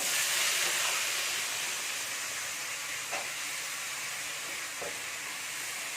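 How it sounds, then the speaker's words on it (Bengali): Thin-cut potatoes drop into hot oil in a wok and fry with a loud, continuous hiss and sizzle, broken by a couple of soft stirring clicks, with no voices. "এবার এই আলুগুলো দিয়ে দিচ্ছি কোড়ার মধ্যে"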